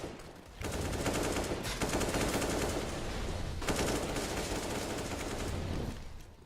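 Sustained automatic gunfire from a Counter-Strike: Global Offensive match on the Train map, loud dense bursts filling the clip with a brief pause in the middle, no voices.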